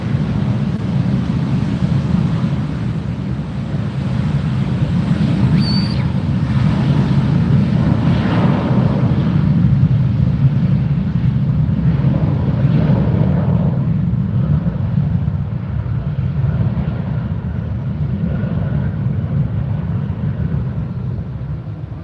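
A jet airliner takes off at Fort Lauderdale airport, its engine roar a loud, continuous broadband rumble that swells and slowly fades into the distance over about twenty seconds, with some wind buffeting on the microphone.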